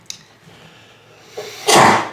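One sharp sneeze lands close and loud at the end, after a short quiet intake, during a casual tabletop game session.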